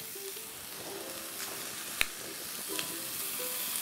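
Seitan frying in a pan for an Indian-spiced dish, giving a steady low sizzle throughout with one sharp click partway and a few faint utensil taps, heard alone without voices.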